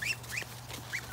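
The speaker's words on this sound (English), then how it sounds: "I've got three baby geese following me around." Three goslings peep in a vegetable garden among squash plants. A few short, high chirps come from close by, spread over a steady low hum, with no talking.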